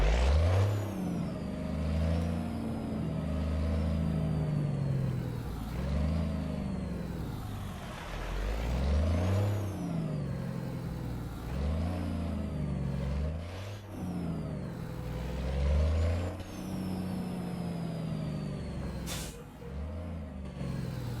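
A semi truck's engine in American Truck Simulator revs and drones through repeated rises and falls while turning around, with sharp air brake hisses at intervals, loud and steady throughout without talk.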